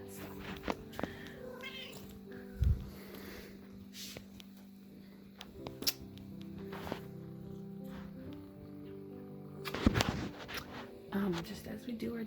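A house cat meows a few times during a home morning routine, short cries scattered among footsteps and soft handling noises, close by, with a voice talking intermittently.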